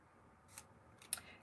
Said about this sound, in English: Now you just have to cut away the excess.